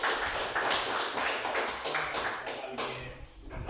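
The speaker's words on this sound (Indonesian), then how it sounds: "mari kita berikan aplaus untuk kelompok." A classroom group of students applauds another student group, a steady burst of dense clapping from a room full of people lasting throughout, fairly loud and close.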